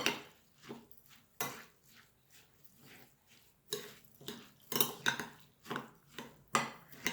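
A utensil clinks and scrapes against a bowl, mixing chopped herbs in a series of irregular taps and stirs, close and fairly quiet, with no talking.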